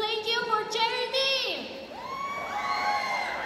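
An audience at a town fiesta beauty pageant cheers loudly for a contestant, with high-pitched shrieks and whoops rising and falling in a lively, sustained burst.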